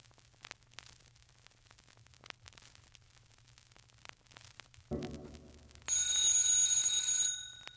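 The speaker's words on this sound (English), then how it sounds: "isn't that Daisy's new beau, Donald, ringing their doorbell?" A doorbell rings out loudly with bright sustained chiming tones for about two seconds, following a short buzzy burst, over a quiet hum.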